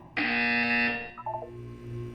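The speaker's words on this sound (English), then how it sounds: "When you hear the buzzer, look down at the floor." Portal 2 test-chamber buzzer: a single harsh, loud electronic buzz lasting under a second, followed by softer synthetic tones and a low hum.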